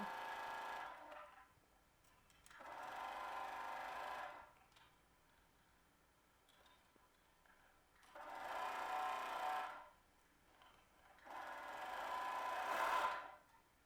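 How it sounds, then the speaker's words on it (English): A serger sews two dress pieces together, running in four loud bursts of steady mechanical whirring separated by quiet pauses, close up with no talk. "Now I'll take this to my serger and attach the two."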